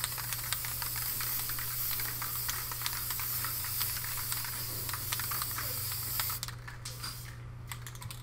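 A continuous hiss of spray with rapid clicking ticks over a low steady hum, then it cuts off near the end.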